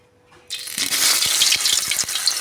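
Sliced pointed gourd drops into hot mustard oil in a pan, setting off a sudden loud, steady hiss and sizzle with a few soft thuds as pieces land, close by and with no talk.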